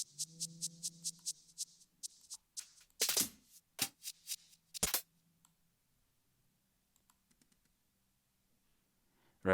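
Mouse clicks come from a computer running XO music software, a quick series of close, sharp clicks followed by a few louder, fuller clicks and then sparse faint clicks in near silence.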